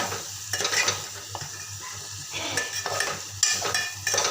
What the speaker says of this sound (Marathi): खूप छान त्याला मस्त असं मसाला तसंच परतून घेऊया पूर्ण मसाले आपल्या त्या कारल्यामध्ये जसे शिरले पाहिजे